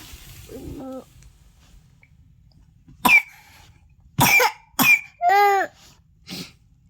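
A child coughs several times in sharp, separate bursts, some ending in a strained voiced rasp, after a brief whimper; quiet pauses between.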